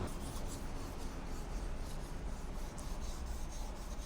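Continuous gritty scraping of a Japanese kitchen knife blade stroked back and forth at an angle across a wet whetstone, close and steady with a regular rasping rhythm.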